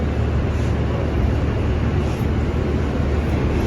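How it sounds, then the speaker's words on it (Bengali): A subway train in the United States pulls out of a station with a loud, continuous, even rumble that stays steady throughout, with no voices. "আমাদের ট্রেন ছেড়ে দিল।"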